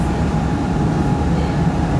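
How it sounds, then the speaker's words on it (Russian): A tram approaching in Dubai near Marina Towers, a loud, steady rumble of wheels and motor with a constant hum throughout, close by and with no voices over it. "И сейчас вот обратите внимание, когда трамвай подъезжает,"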